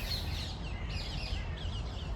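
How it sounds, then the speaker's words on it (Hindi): Small birds chirp outdoors on a cold, roughly 10-degree UK morning among fallen leaves, with several faint high calls scattered over steady low background rumble. "चिड़िया भी बोल रही है, अच्छा लग रहा है।"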